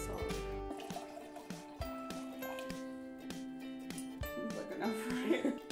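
Tequila is poured from a bottle into a spicy serrano margarita, a gurgling, trickling pour with faint drips and clinks, while a person talks over it.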